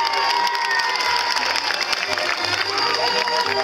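A large crowd at a Tết Nguyên Đán celebration in Saint-Paul, Réunion, cheers, shouts and applauds loudly and without a break for a dance troupe, with children's voices mixed into the roar.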